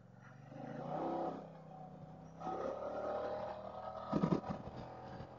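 A KYMCO CV3 scooter engine drones and rises as the rider opens the throttle fully on a winding mountain road, swelling in two surges with some clattering near the end.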